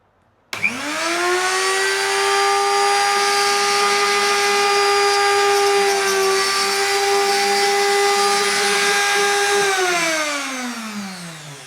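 A Bosch 1/4 inch power tool, freshly repaired, spins up sharply and runs with a steady high-pitched whine for about nine seconds, then winds down as it is switched off, loud and close with no talking.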